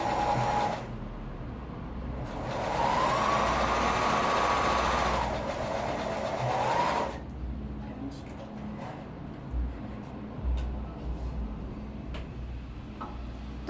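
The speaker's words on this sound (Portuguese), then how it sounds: "Vou fazer um pé de máquina." A sewing machine stitches a seam on a fabric Tilda doll, whirring in a steady, close mechanical drone for several seconds before stopping, with quieter handling clicks and rustles afterward while someone speaks.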